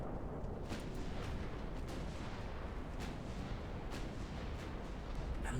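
Battleship guns firing in the naval game Ultimate Admiral Dreadnoughts, a continuous rumbling barrage of booming salvos with sharper reports near one and four seconds, no talk.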